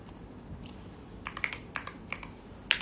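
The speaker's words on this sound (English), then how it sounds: "you about to sleep while typing on here?" Soft, irregular typing taps on a phone or keyboard, a few quiet clicks scattered over a few seconds in a hushed room.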